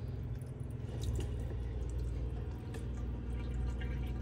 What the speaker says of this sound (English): So pull the tap, pump starts running straight away, which is a good sign.